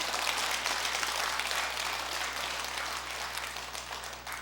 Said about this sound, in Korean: 이게 좋은 말인 줄 알면 박수 좀 치겠구만